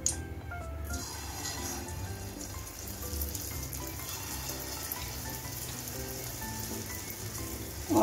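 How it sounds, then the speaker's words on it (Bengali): Ripe mango fritters (bora) fry in hot white oil in a kadai, giving a steady, even sizzle and crackle that holds at moderate loudness throughout, with no talking. "এখন আমি বড়াগুলো ভেজে নিব।"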